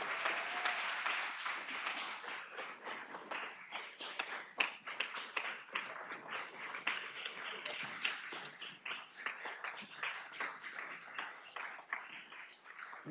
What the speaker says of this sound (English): Ms. Walker really deserves that applause